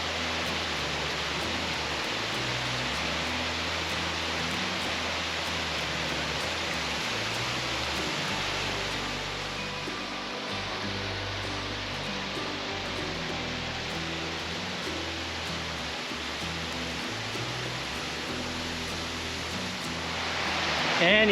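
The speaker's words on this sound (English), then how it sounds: "So this is Laurel Falls at high water." Laurel Falls running at high water after two days of rain, a loud, steady roar of falling water that fills the whole stretch without pause, swelling a little at the very end.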